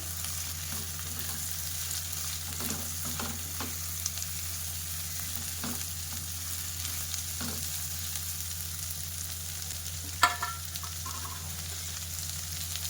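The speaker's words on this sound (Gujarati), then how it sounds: "હવે આપણે તેની અંદર સમારેલા ટિંડોળા ઉમેરી દઈશું। મિક્સ કરી લઈએ।" Chopped tindora (ivy gourd) fries in a pan with a constant, even sizzle, broken by occasional scrapes and taps of a spoon stirring the pieces.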